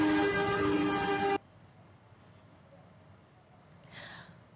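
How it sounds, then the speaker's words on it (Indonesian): A locomotive horn blares loud and steady for over a second with rich harmonic tones, then cuts off abruptly, leaving faint rail ambience and a brief distant noise afterward. "masinis pun sudah membunyikan klakson lokomotif"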